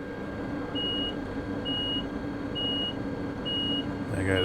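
German train door-locking warning beeps in Train Sim World 2, four evenly spaced high electronic tones repeating steadily over a low cab hum, followed by a brief clunk at the end.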